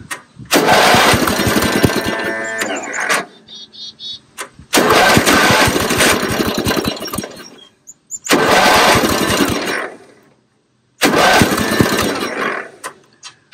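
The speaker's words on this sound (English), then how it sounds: "I think that carb is flooding the engine" A Toro 8-32 riding lawn mower with a flooding carburetor cranks in four separate bursts, each a loud, rough mechanical churn lasting a few seconds, with silent gaps between them.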